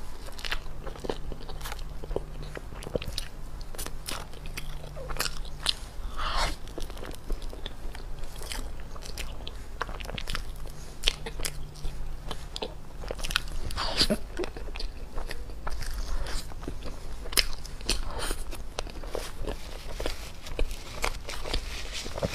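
Close-up biting and chewing of a black sesame snow-skin mooncake mochi, with repeated soft crunches and sticky mouth sounds in an irregular rhythm, loud and intimate, with no speech.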